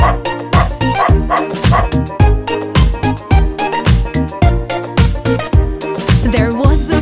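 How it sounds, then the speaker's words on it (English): Rhythmic, loud cartoonish dog barks set to a bouncy children's nursery song about a farmer's dog, with musical backing throughout and the barks repeating on the beat. "there was a farmer had a dog, and Bingo was his name"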